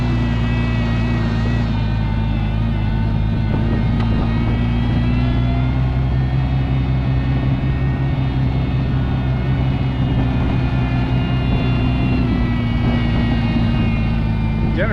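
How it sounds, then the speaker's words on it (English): An engine runs steadily at idle with a deep, constant drone and tonal hum while its generator charges, loud and close throughout, with no speech over it. "Generator started charging."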